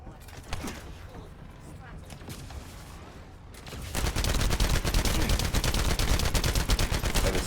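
Rapid automatic gunfire in the sci-fi shooter game The First Descendant, starting after a quieter stretch and then rattling on loud and continuous as a dense burst of shots.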